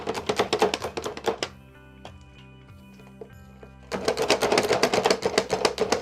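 Rapid, rhythmic chopping clatter of onions in a manual chopper runs in two bursts, separated by a quieter stretch with faint tapping; close and fairly loud.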